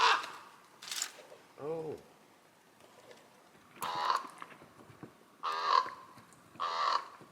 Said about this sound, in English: Ravens go croak, croak, croak. That's a raven.